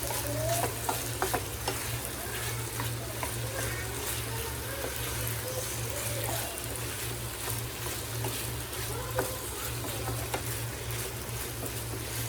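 Masala with turmeric frying in a pan for a garlic chicken dish, a steady close sizzle with repeated scraping stirs throughout, over a constant low hum.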